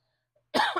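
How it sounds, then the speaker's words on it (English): A single short cough, close and fairly loud, bursts out after near silence and fades quickly, with no talk around it. "I'm going to cough"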